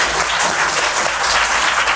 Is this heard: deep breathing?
no